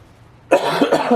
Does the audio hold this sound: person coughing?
yes